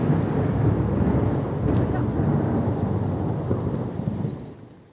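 Thunderstorm over the Amazon river, with heavy rain hissing steadily and low thunder rumbling close by, wind buffeting the microphone before the storm noise fades toward the end.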